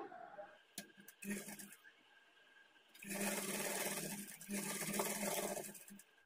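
A sewing machine stitches a plain blouse in short bursts, then runs in two longer continuous passes of steady whirring, with occasional handling clicks in between.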